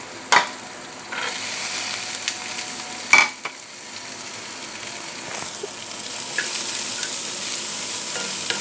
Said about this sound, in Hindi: इसको हल्का सा फ्राई कर लेंगे